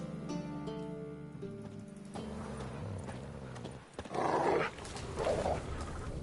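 Dogs in a video game give a couple of short, rough barks over a low game soundtrack, after a soft melodic passage, with each outburst brief and moderately close.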